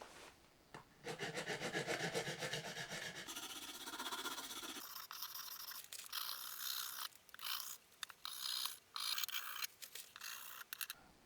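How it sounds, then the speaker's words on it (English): Metal crowning file stroking over stainless steel guitar frets, a harsh, close rasping scrape in long continuous passes that break into shorter, choppier strokes, with no talking. "Now I'm going to try the medium crowning channel of this fancier file."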